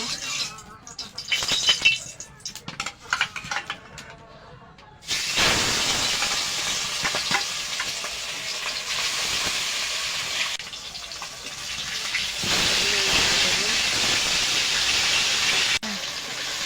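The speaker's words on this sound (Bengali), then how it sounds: "গরম হয়ে গেছে, মাছগুলো ভেজে নেব।" Salted, turmeric-coated rohu fish pieces drop into hot oil. A sharp crackle is followed by a loud, steady sizzling hiss that continues for many seconds.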